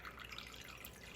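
Bottled lime juice poured into a small measuring jigger, a brief soft continuous trickle, close and quiet, with no voice.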